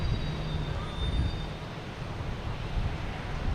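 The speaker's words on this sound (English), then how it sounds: "An A330, 300, Aer Lingus, coming in from Dublin." An Aer Lingus Airbus A330-300 airliner arriving from Dublin at Boston Logan, landing on runway 22 left, gives off a steady, broad jet rumble heard from a distance, continuous and without talk.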